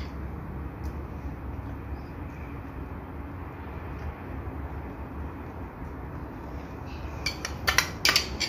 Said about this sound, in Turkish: Tabağı kırdım galiba.